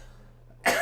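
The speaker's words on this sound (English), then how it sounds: "You made me cough." A single sharp cough bursts out close by after a quiet stretch, loud and brief.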